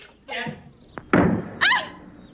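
A door in a stately room slams shut with a sharp thud between bursts of voices, one person shouting and another exclaiming right after.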